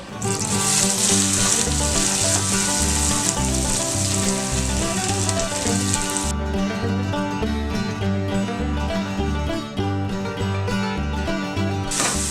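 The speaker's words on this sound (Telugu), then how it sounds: "కొంచెం జీలకర్ర వేగాక ఆనియన్స్ వేసుకోవాలి" Onions added to oil with toasted cumin seeds for egg curry, giving a bright steady sizzle under loud rhythmic background music; the sizzle drops out about halfway and returns briefly at the end.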